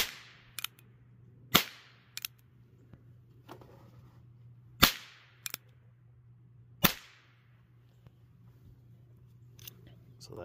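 An NAA Companion cap and ball revolver fires several sharp, isolated cracks with a few seconds between them, each loud and sudden with a brief ring-off, over a steady low hum and faint background noise.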